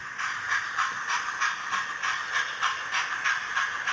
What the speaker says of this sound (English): I can definitely hear a train coming